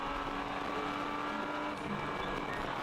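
A race car in a ChampCar endurance race at Road America drives downhill toward the Corvette bridge, its engine a steady, loud, continuous roar recorded close from inside the car, with no pauses.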